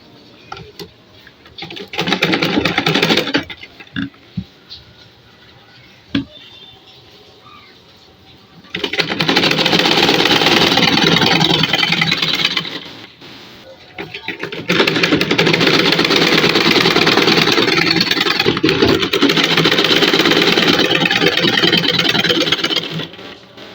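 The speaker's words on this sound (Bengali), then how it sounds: "কোমরের কাপড়ের ভিতরে রাবার দিয়ে সেলাই করে নেব, রাবারের মধ্যে যাতে সেলাই না পড়ে।" Sewing machine stitching elastic inside a salwar waistband, running in three loud sustained bursts, a short one and then two long ones, separated by quiet pauses with faint handling clicks.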